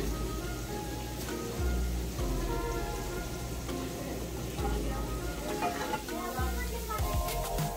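Shrimp frying in browning butter in a pan, a steady close sizzle with faint crackles and a few soft utensil knocks, no talking.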